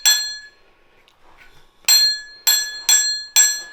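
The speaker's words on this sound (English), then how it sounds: "We have got a bell, which isn't quite as chimey as I would have liked." A bright metallic e-bike handlebar bell, on an Engwe P26, dings five times, one sharp ring, a pause, then four quick rings in succession, each short and clear with a brief ringing decay.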